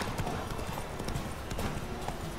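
Horse hooves galloping in The Witcher 3 video game, a rapid steady clip-clop of hoofbeats at close range under a continuous background, with a voice heard faintly.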